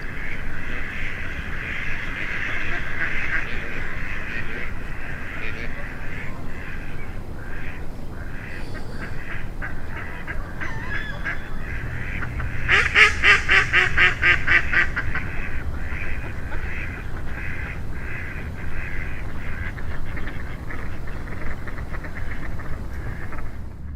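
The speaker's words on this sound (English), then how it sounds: "I'm gonna play that little audio clip here of these ducks talking in the roost" Ducks quacking and chattering in a roost during an Atlantic Flyway duck hunt, a steady chorus of calls heard at a moderate distance throughout, swelling into a louder, denser burst of calls midway through.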